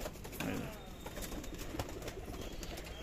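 Pigeons in a loft coo softly and repeatedly, with the occasional rustle of wings and scattered faint background noise.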